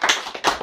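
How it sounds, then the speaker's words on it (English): Brief applause at a magic show, a few sharp, close hand claps sounding in quick bursts, short and fairly loud. "this young sir deserves a big round of applause too"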